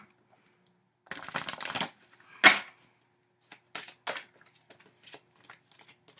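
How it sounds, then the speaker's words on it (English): Tarot cards shuffled by hand, a few quick papery riffle bursts and taps separated by short pauses, close and fairly quiet, no voices. "So let's get shuffling and see where you're at."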